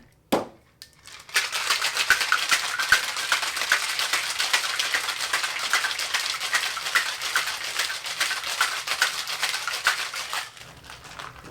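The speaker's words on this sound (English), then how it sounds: "Get some ice in the shaker and we'll give this bad boy a shake." Ice cubes rattle hard and fast inside a cocktail shaker with orange juice for an Alabama Slammer, a dense, continuous close-up clatter lasting about nine seconds after a first knock, then fading out.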